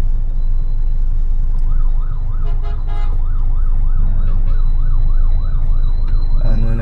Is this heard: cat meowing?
no